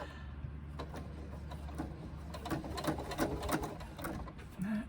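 A domestic sewing machine top-stitching a fabric baby sling runs in short, rapid mechanical bursts of needle clatter with a soft low motor hum, close and steady, punctuated by brief pauses.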